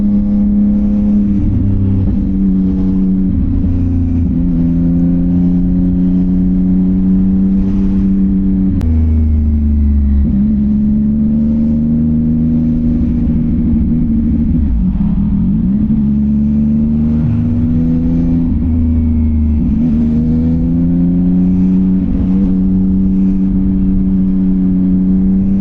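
A CFMOTO 675NK motorcycle engine revs under throttle during a ride, giving a loud, steady mid-pitched drone that rises and falls through repeated throttle swells, heard close with no speech.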